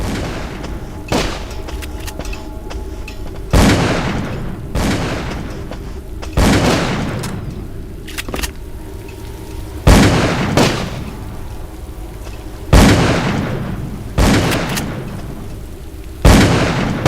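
Gunshots fire in Call of Cthulhu: Dark Corners of the Earth, seven sharp loud blasts spaced a couple of seconds apart, each with a short decaying tail over a low rumbling ambience.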